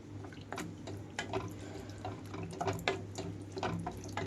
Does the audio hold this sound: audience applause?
no